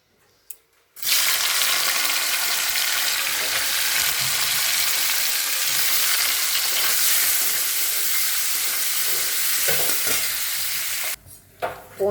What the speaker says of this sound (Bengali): তো এখন আমি পনিরগুলো ভাজবো।